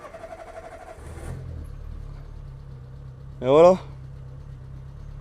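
A 1998 Citroën Saxo engine cranks and starts, then settles into a low steady idle, close by; someone speaks briefly over it, and one short vocal burst rises above the idle.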